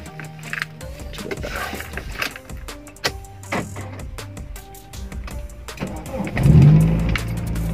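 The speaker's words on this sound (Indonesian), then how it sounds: "Ini agak berisik soalnya mobilnya pakai knalpot berisik" A 2001 Toyota Soluna GLi engine idles with a loud aftermarket exhaust, a deep steady rumbling drone that swells louder near the end, with clicks and voices around it.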